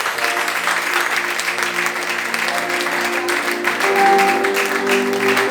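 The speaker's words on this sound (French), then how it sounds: "Acclame encore le Seigneur très fort." A church congregation at an evening fasting and prayer service applauds loudly and steadily, a dense sustained clapping that swells slightly near the end, with voices and some cheering mixed in.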